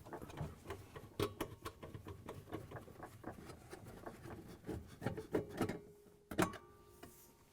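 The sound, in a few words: nut driver removing screws from auger motor assembly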